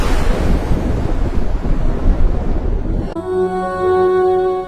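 Ocean waves surge and wash in a loud, rough rush with wind buffeting the microphone, then give way abruptly to a sustained tonal hum near the end.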